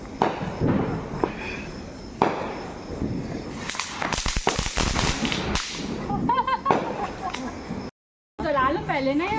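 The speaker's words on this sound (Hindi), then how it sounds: "ये सारे पटाखे हैं" Firecrackers crackle and pop in dense, irregular bursts at a family Diwali celebration, loud and close, with voices chatting throughout and a brief dropout near the end.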